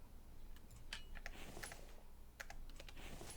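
Soft, irregular keystrokes on a computer keyboard, a quiet scattered run of taps heard close with no talking.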